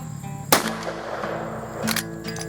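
Rossi R92 lever-action rifle in .45 Long Colt fired outdoors, two sharp, loud cracks about a second and a half apart with a faint mechanical rattle between, no talking.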